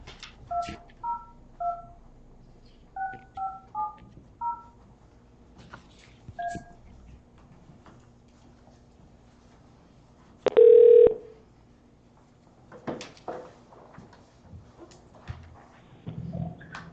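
A series of telephone keypad tones dialing a commissioner for a city commission meeting, short beeps in quick clusters, followed by a loud ringback burst and faint room noise.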